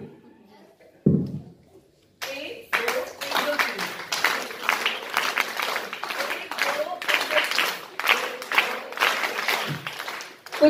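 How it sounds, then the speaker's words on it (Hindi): An audience at a pre-primary education festival in Gosainganj, Lucknow, claps in a special rhythmic pattern. Crisp, steady patterned claps begin after a brief pause and continue at close range, with a voice heard briefly. "अब एक विशिष्ट ताली बजाते हैं।"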